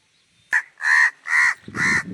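A crow caws three times in quick succession, harsh and loud, close by, after a short sharp knock.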